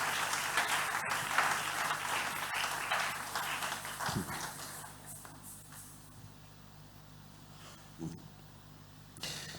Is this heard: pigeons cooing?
no